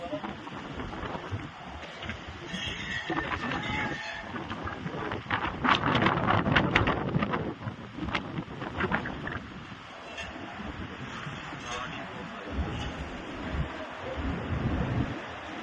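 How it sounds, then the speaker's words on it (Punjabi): Tornado-strength storm winds roar in gusts over open fields near Bhagta Bhai in Bathinda district, with rain, buffeting rumble and brief rattling clatters, loud and continuous. "ਆਹ ਦੇਖੋ ਜੀ ਇੱਕ ਤੂਫਾਨ ਉੱਠਿਆ ਜੀ"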